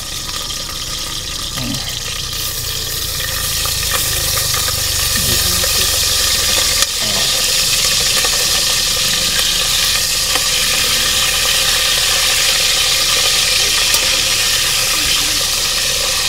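Garlic frying in a pan, a dense hiss that swells after a few seconds and then holds steady, with faint stirring and clinking mixed in.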